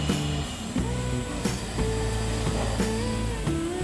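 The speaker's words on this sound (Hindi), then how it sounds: "और इसे स्मूथ पेस्ट में ग्राइंड कर देंगे।" A kitchen mixer grinder whirs steadily while grinding coconut chutney with a little water into a smooth paste, a loud continuous motor whine with shifting pitch and occasional knocks, no talk.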